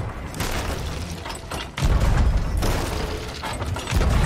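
Heavy cannon booms from a ship battle in Sea of Thieves, loud low thumps with a sharp blast at about two seconds and another near the end, over rumbling sea and game noise.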